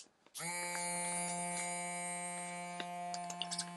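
A small USB-powered pump switches on and sucks air from a travel vacuum storage bag, giving a steady close buzzing whine with faint clicks and crinkles near the end.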